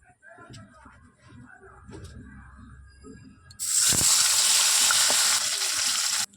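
Tilapia dropped into hot oil: quiet clattering and handling noises first, then a sudden loud, dense hiss of frying that bursts in and holds steady until it cuts off.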